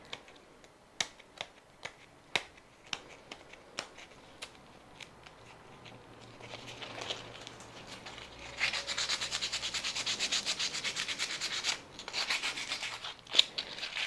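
Willow wood rubbed with sandpaper as a test patch, at first a string of faint sharp taps, then a steadier, louder scratchy rasp of back-and-forth sanding strokes up close.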